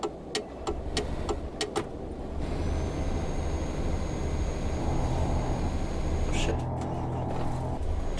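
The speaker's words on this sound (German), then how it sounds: "kann es sein, dass mein LKW wirklich immer an und aus geht? Dass ich das nicht nur höre, sondern dass es wirklich so ist?" A truck engine in a driving video game cuts in after a few quiet clicks and taps, settling into a steady low rumbling drone that runs on before shifting in tone near the end.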